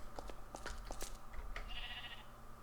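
A sheep in a Minecraft-style game lets out a short bleat, followed by a few faint clicks and a soft tone over quiet background noise.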